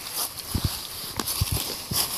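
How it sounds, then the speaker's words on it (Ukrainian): Goat hooves thud and clop irregularly on hard ground nearby as the goats shuffle and trample about in rural Ukraine, with faint background noise. "Бо тут кози товчуться"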